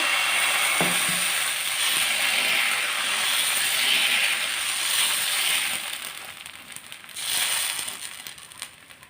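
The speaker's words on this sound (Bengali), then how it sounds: "এবার একটু তেল ব্রাশ করে দিচ্ছি। ব্যাটার দিচ্ছি।" Patishapta batter made with semolina is poured onto a hot, oil-brushed griddle and gives a bright, steady sizzle that softens and fades partway through, then swells again briefly.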